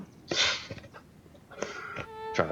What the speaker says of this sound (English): trying to cough not directly into the mic there